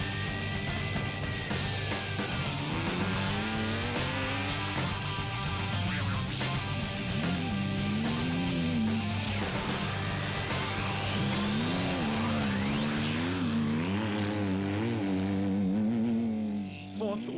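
Race cars in the Magalies 400 endurance race pass by with engines revving and whining, pitches rising and falling as they accelerate and shift, loud and continuous with overlapping machines, no talk.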